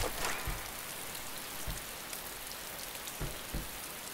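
Rain falls steadily in an outdoor setting, a dense continuous hiss with a few heavier drops or gusts standing out, with no voices over it.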